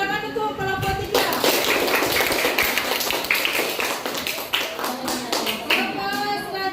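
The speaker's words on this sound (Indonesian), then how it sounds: "Tepuk tangan untuk kelompok 3." Students in a classroom clap for a presenting group, a dense burst of many hands slapping close by that runs steadily for several seconds after a voice, with a few scattered taps as it winds down.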